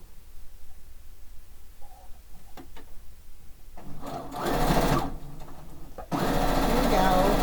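A domestic sewing machine stitching quilt pieces together runs in two short bursts of rapid mechanical whirring, close and loud, after a few quieter handling clicks and faint background noise.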